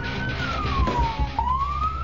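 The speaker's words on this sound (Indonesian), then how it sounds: "Petugas damkar juga sudah membunyikan sirine dan klakson" A fire truck siren wails nearby on a street in Majalengka, West Java, its tone sliding down then sweeping back up, over a low engine rumble.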